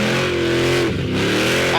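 Loud, close revving of a 1969 HT Holden Monaro with a 408 stroked small-block V8 and 871 supercharger, a deep rumble that dips briefly and then surges again, heavy and throaty.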